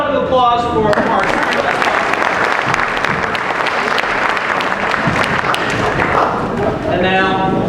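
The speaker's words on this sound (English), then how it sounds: "Another round of applause for our" An outdoor theater audience at a Shakespeare in the Shade performance of As You Like It bursts into loud, sustained applause, with a voice audible briefly at the start and end over the dense clapping.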